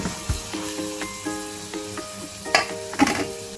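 Fish pieces frying in a pan for a fish curry, turned over with a utensil: close, loud sizzling broken by several sharp clatters and scrapes against the pan, no voices.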